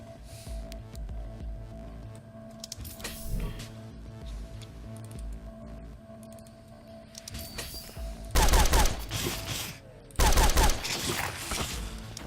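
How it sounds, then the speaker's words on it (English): A mag rifle in the shooter game The Pit Gold fires two loud, sustained bursts of rapid gunfire near the end, over a steady humming game soundtrack and scattered quieter effects. "I think I'm gonna have to bust this out, the mag rifle"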